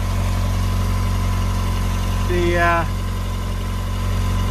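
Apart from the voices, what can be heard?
Lotus Elan M100 engine idling during timing check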